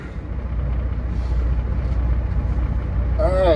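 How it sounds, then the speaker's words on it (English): A truck engine high idling gives a steady, loud low rumble throughout, with a faint voice speaking briefly over it at the end. "I think it's high idling and it's doing its thing."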